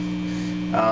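A steady electrical hum drones from a guitar amplifier in a metal rig, low and constant, with a brief voice-like sound near the end.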